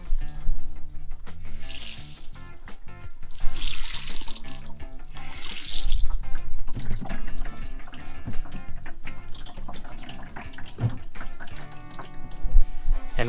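Water pump pushing water through improvised van sink plumbing, a continuous running-water splash and gurgle with bursts of louder spray, fairly close and alone without talk.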